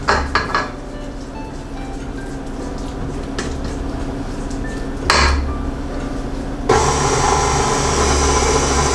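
A utensil scrapes chocolate tart mixture from the sides of a bowl with scattered clinks and scratches, followed by louder clattering bursts of metal against the bowl.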